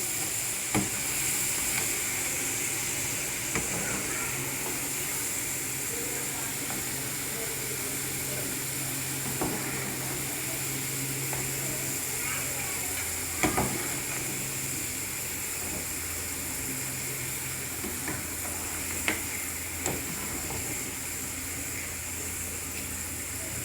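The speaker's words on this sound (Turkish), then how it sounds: "Hafif tuzlanmış patateslerimizi kızartıyoruz." Continuous sizzling hiss of lightly salted potatoes frying in hot oil, steady and moderately loud, with occasional faint clinks.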